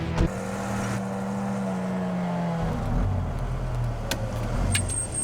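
A motor vehicle's engine hums steadily nearby, then shifts to a deeper, rougher drone partway through as it pulls away, with a few light clicks and knocks over the running motor.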